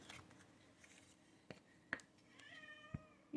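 A pet cat gives a short, fairly quiet meow near the end, with faint scissor-like snips and paper handling in a quiet room beforehand.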